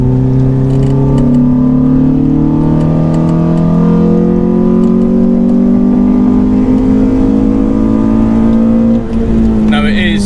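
A Renault Clio 182 engine, still stock, drones loudly and steadily as it accelerates on a slippery track, its pitch rising and shifting gears, heard up close from inside the car.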